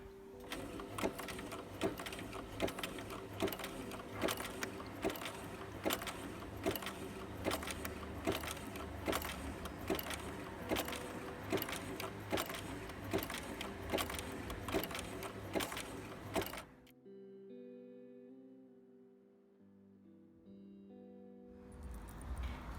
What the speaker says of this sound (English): I'm going to use the zigzag stitch to attach the arm to the hand.